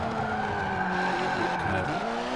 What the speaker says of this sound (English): kind of skid it a little bit